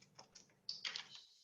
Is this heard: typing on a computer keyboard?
yes